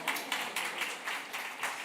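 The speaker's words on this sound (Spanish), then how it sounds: "Un aplauso para el pingüino valiente" Audience applause at a book fair author talk, a short burst of scattered clapping from a seated crowd, fairly faint and distant with uneven surges and no voices over it.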